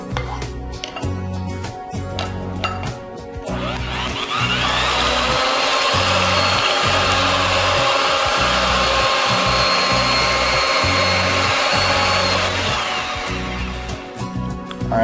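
An electric mixer whirs through banana crepe batter, a steady loud motor drone building after a few choppy starts and running continuously before easing off near the end.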